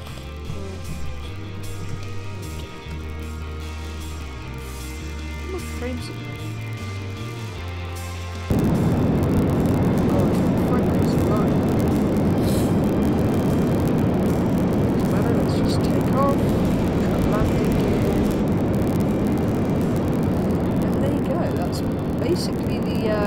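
F-14 Tomcat jet engine in the SimplePlanes video game, starting as a low hum with faint music, then abruptly swelling into a loud, continuous, broadband roar that holds steady to the end.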